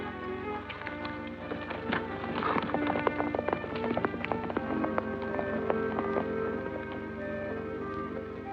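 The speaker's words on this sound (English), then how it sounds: "Loose horse." A loose horse gallops with rapid, rhythmic hoofbeats under a swelling orchestral score, the pounding steady and fairly close.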